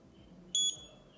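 A single short, high electronic beep sounds once from a Madventure 360 camera as Wi-Fi is switched on, in a quiet room, with faint background hum before and after.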